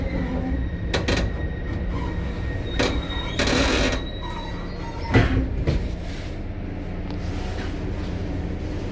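An NJ Transit train pulls into Secaucus Junction, a steady low rumble of wheels and car noise with scattered clanks and squeals over several seconds, heard from on board.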